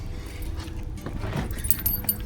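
Car keys jangle inside a 1987 Porsche 911 Carrera Cabriolet, a close, soft metallic rattle with a few brighter chinks toward the end, heard alone over a low cabin hum.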